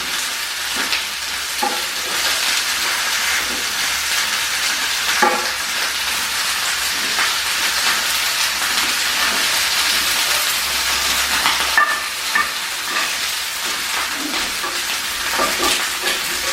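Onions and beef bones fry and are stirred in a pot while beef stock is being prepared, giving a steady loud sizzle with scraping stir strokes throughout.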